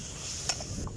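Chicken frying with oregano in a pan, a steady soft sizzle with a light stirring scrape midway, brief and close.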